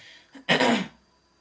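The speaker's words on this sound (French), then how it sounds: "il faut que je tousse" A woman gives a single short cough, preceded by a faint throat catch, close and fairly loud against a quiet room.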